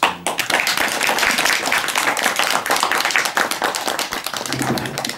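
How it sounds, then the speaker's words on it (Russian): Steady applause from a concert audience at a Christmas choral concert, dense clapping sustained throughout at a loud, even level. "Наши аплодисменты."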